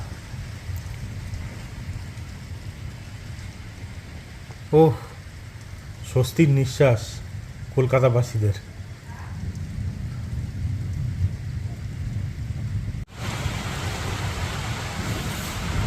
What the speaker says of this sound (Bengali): এ দেখো বৃষ্টি শুরু হয়ে গেছে আবার